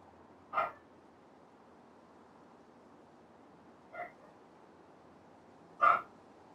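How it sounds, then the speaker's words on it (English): Three short, separate dog barks spaced a few seconds apart over a quiet background, faint and somewhat distant. "Sorry about the barks."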